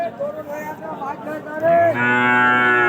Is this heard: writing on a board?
no